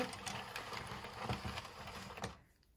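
A circular knitting machine turns steadily for a Christmas popcorn garland, giving a busy, even mechanical clatter with rapid repeated clicks that stops abruptly near the end, leaving near silence.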